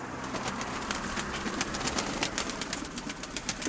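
Pigeons cooing and murmuring in a steady, dense chorus, with bursts of wing flutter and scratchy movement close by.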